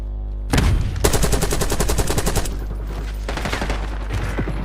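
Rapid automatic gunfire in a Warzone-style video game battle, loud sustained bursts of rattling shots after a brief quiet start, a pause, then another long volley.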